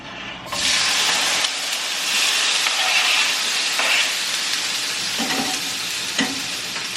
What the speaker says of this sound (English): So I currently have them sauteing. I'm gonna cook them up until they're brownish.